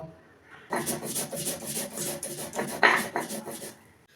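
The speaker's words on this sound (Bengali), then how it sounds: "এই যে পোস্তর কাঁচা লঙ্কা নিয়ে নিয়েছি, একটু জল দিয়ে বেটে নেব।" Poppy seeds and green chillies are ground with a little water, giving a close, rhythmic wet rasping and rubbing that keeps steady back-and-forth strokes for several seconds.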